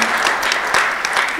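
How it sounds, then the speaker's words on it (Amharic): An audience applauds in a brief burst of dense clapping, loud and close, lasting about a second and a half. "አጨብጭቡለት በእውነት።"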